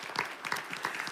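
Brief applause from a church congregation at a worship service, moderately loud with uneven clapping bursts, lasting about a second.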